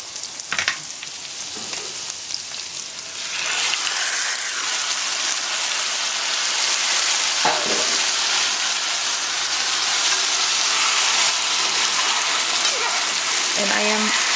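Beef pieces for Vietnamese beef stew hit a hot pot and settle into a loud, steady hiss of frying and sizzling, with a few clinks of utensils stirring.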